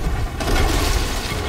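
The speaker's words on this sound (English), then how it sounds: "Fire the cannons." Ship cannons fire during a Sea of Thieves naval battle, a dense booming blast with crashing, rumbling debris that stays loud and continuous for over a second.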